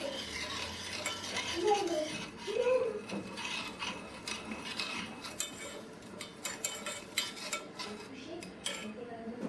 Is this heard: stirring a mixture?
yes